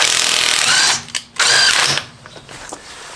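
An 18V HYCHIKA cordless impact wrench tightening car wheel bolts gives a loud, dense burst of hammering, breaks off briefly, then fires a second short burst before fading into quieter mechanical clicks.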